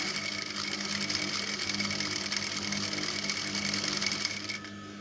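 A sewing machine runs steadily, stitching stretched rubber elastic onto a baby skirt, a continuous close whirring drone that stops abruptly near the end, with no talk.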